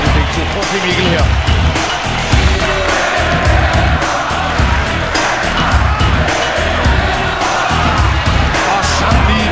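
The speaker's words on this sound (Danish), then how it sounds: "Alle står op og råber Kessler" A packed boxing arena crowd of about 10,500 in Herning roars and shouts for Mikkel Kessler during his fight against Carl Froch, with dense, continuous loud cheering that has a rhythmic, chant-like pulse.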